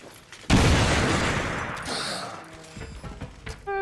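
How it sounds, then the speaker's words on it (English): A frag grenade explodes in the XCOM: Chimera Squad video game, a sudden loud blast that rolls on in a long, slowly fading roar, followed by smaller game effect sounds. "Yeah, we can throw a grenade."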